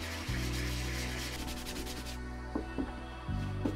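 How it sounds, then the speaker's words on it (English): Sandpaper rubs against a plastic toy in short scratchy strokes, close and fairly quiet, over a steady low hum with a few small knocks near the end. "We're gonna try to use some sandpaper right here on this spot here."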